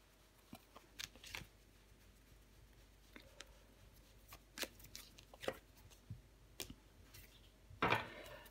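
Tarot cards are shuffled and turned over on a table. Soft scattered flicks and taps come close and quiet, ending in a brief riffle near the end, with no talking.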